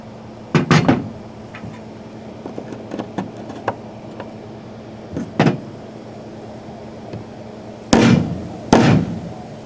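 Several sharp metallic strikes in small clusters, with quieter knocks and taps between them, close by and with no talking, from hammering during an air hose reel install on a Class A motorhome.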